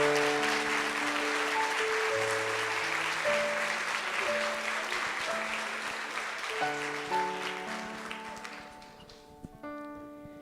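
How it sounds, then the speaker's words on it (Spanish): Audience applause for the visiting Bishop of Miami at a Catholic congress, a broad steady clapping wash that slowly fades over ten seconds while sustained organ or keyboard chords play underneath. "Un fuerte aplauso, por favor."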